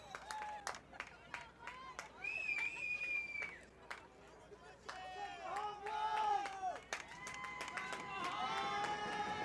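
Fans at a junior college men's soccer semifinal between Triton and Morton cheer, clap and shout in the stands at night, a loose rise and fall of crowd noise with whistles and voices.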